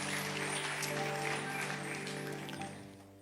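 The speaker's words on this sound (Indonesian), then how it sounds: "Kita beri tepuk tangan yang meriah untuk Allah kita." A church congregation applauds together, a dense, steady clapping that fills the room and slowly fades toward the end.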